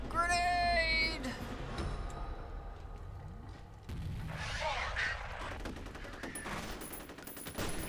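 Shotgun and other gunfire in the first-person shooter F.E.A.R., with loud bursts of shots and blasts stacked over game noise and music, dense and close throughout.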